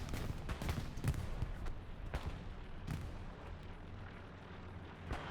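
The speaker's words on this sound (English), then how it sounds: "is now being shot at by the AT cannons" Anti-tank cannons fire in a competitive online war game on the Hurtgen map, a Sherman tank among the targets. Several distant, booming shots and impacts come at irregular intervals over a low, rumbling battlefield background.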